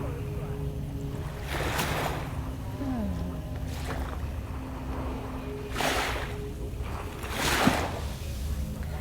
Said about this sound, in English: the nice little ocean sounds, the lapping of the waves